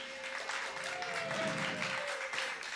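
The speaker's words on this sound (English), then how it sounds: "give him a big round of applause, Chris." Audience applause at a live comedy show fills the room with steady, moderately loud clapping from a crowd, sustained throughout without a break.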